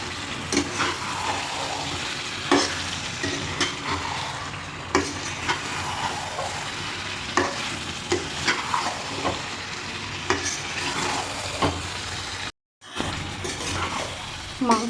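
Chicken with spices being stirred and fried in a pan makes a continuous sizzle, punctuated by frequent scraping clicks of a spoon against the pan, with one brief cut to silence near the end.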